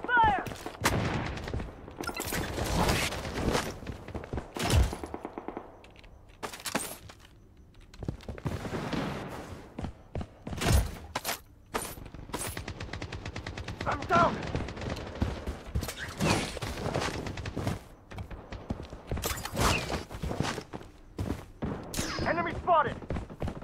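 Gunfire bursts and single shots in the Blood Strike battle royale video game, in repeated clusters through the clip, mixed with game voice callouts and other effects.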